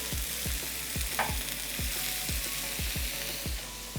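Low-carb pasta fries in a hot pan, giving a dense continuous sizzle with a regular series of soft rhythmic thumps underneath, close and even throughout.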